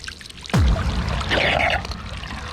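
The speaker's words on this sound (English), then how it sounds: "It's actually aerating. All right, there's our new aerator." A new pool aerator nozzle sprays and bubbles water into a backyard pool, opening with a sudden splashing surge that settles into a close, continuous gurgling rush.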